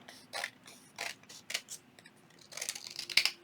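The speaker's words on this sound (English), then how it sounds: "I'm going to grab my other scissors, and I'm simply going to open it up right here." Close, crisp snips of scissors cutting through material, several separate cuts spaced unevenly, ending with a quicker cluster of snips.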